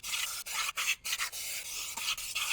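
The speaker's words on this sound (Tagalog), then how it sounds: "lalagyan ko na ng grasa yung torque drive natin" Grease is rubbed onto the torque drive of a scooter's CVT, a GY6 unit, close up. It makes soft, repeated scraping and smearing strokes broken by brief pauses, with no talking.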